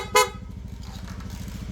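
A Honda Beat FI V2 scooter fitted with a PIA horn gives one short, bright beep over a steady idling engine, close by.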